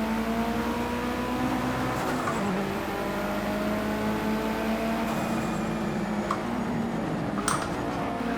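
A Mitsubishi Evo IX engine in Project Cars 2 drones steadily at high revs on the Nordschleife, a continuous loud in-car engine tone that shifts pitch slightly with gear changes throughout.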